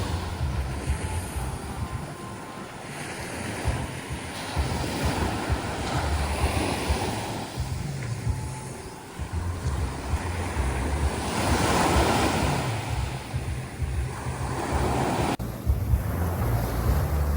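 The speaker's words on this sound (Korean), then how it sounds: "가만히 앉아 파도 소리 들으며 파도멍 하는 시간 너무 좋았어요." Autumn ocean waves wash continuously onto the beach at Gangneung, a broad rushing surf with swelling breaks and wind buffeting the microphone, heard alone without speech.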